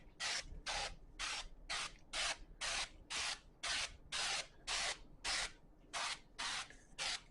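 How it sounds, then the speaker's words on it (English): Cooking spray is misted over potatoes before seasoning for smoking on a Franklin BBQ offset smoker, heard as about fourteen short, even hissing bursts in a steady rhythm, close and clear with no talking. "Hit them real quick with the spray."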